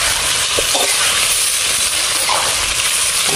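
Prawns frying in a pan for a stuffed pointed gourd dish, giving a loud, steady, close sizzle and hiss that runs without a break.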